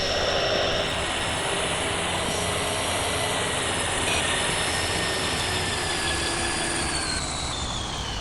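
Bus engine in the Proton Bus Simulator Urbano game, a dense continuous roar with a high whine, loud and steady throughout with no talking.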